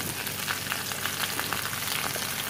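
Corned beef fries in a pan over potatoes for hash, giving a steady, even sizzle that crackles softly and continuously throughout.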